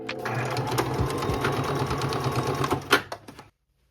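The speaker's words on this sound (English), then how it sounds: "We're just gonna sew a couple straight seams this way to reinforce it" Straight reinforcing seams are sewn on a sewing machine for side-tie pants, a close, steady motor hum with rapid needle chatter for about three and a half seconds before it stops abruptly.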